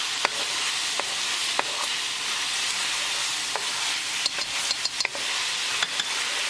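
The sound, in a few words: stirring chilli fish with soy and hoisin sauce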